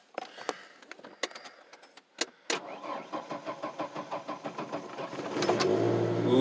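A 1995 Ford Ranger XLT pickup cold-starting: a few sharp clicks and knocks, then a cranking engine with rhythmic pulses that catches and settles into a louder, steady idle near the microphone.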